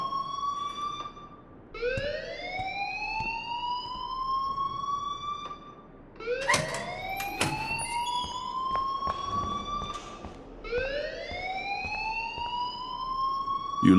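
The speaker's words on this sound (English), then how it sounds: "please turn off that alarm since that's your job" A wailing electronic alarm sounds in the video game Life is Strange, rising in repeated sweeping tones roughly every few seconds, loud and steady with no talk over it.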